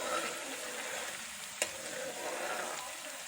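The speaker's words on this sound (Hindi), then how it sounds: "तमाम मसालों को 1 मिनट भूनने के बाद इसमें प्याज डाल लेंगे।" Onion paste frying with spices in a pan for a Lahori chickpea curry, giving a steady close sizzle throughout with one brief sharp click near the middle.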